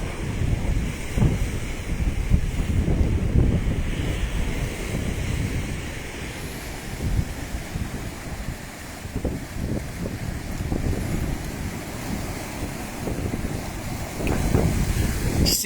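Storm wind and spring-tide waves pound the coast at Ilfracombe during Storm Eunice, a continuous roar of gusting wind buffeting the microphone over crashing surf, with no voices.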